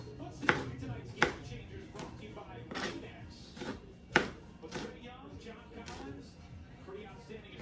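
A knife chops salad vegetables on a cutting board while dinner is prepared, giving several sharp, close chops at an irregular pace, with quieter cutting and a person talking in between.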